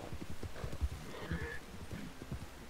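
A horse in the Red Dead Redemption 2 online game whinnies over a run of close, clopping hoofbeats, with no talk.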